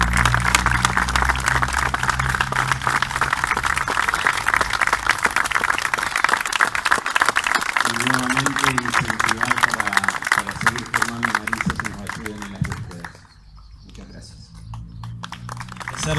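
An audience at a farewell tribute for a rescue dog gives sustained applause, dense clapping over a low background of voices and a loudspeaker tone, the clapping thinning out and then fading near the end.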